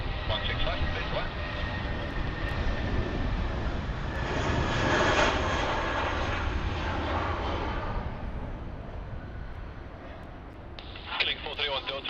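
A jet airliner takes off from runway 16 right at Sydney Airport, its engine roar broad and steady, swelling through the middle and easing near the end, with radio chatter heard over the top.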